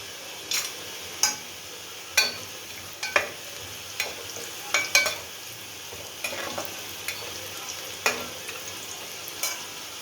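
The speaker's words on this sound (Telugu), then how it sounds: "ఆనియన్ కొంచెం వేగిందండి. కాజు, ఎండు ద్రాక్ష అండి" Onion, cashews and raisins fry in a pan, a soft steady sizzle broken by repeated scraping strokes of a spatula at an uneven pace, close up with no talking.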